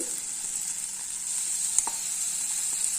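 Ingredients for paneer pepper masala, including garlic, ginger and green chili, sizzle and fry in a pan with a continuous bright hiss and a few faint stirring taps, with no voices.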